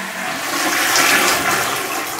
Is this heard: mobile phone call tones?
no